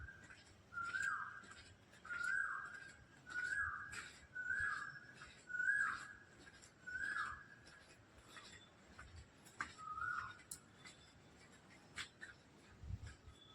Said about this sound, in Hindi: कोयल का आवाज़ सुन लीजिए।